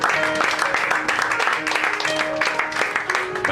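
Audience applause fills an evening show for guests, a dense steady clatter of many hands clapping throughout, with voices and cheering mixed in.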